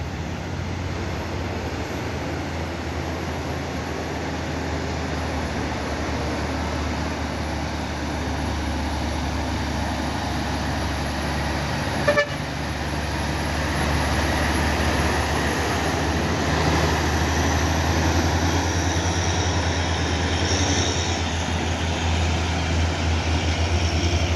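A Siwa Surya trailer truck hauling a drilling rig creeps uphill, its heavy engine giving a steady, loud low drone that grows slightly stronger in the second half, with no voices.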